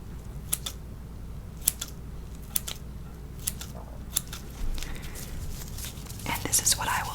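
Scissors snip through gauze in a close, quiet room, giving about five crisp, separate cuts spaced a second or so apart over a soft, breathy whisper-like background, with some gentle handling rustle near the end.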